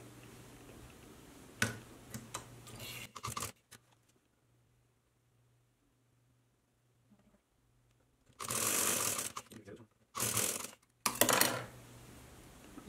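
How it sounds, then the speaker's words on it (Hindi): Sewing machine stitching along a folded-in piping edge on a baby frock, in three short close bursts with a long quiet pause between them, no talking. "अंदर फोल्ड करते हुए हम ऊपर सिलाई लगा लेंगे।"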